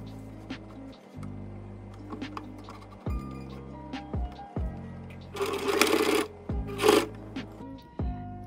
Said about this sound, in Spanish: Ahora la costura final la vamos a dar por la parte interna.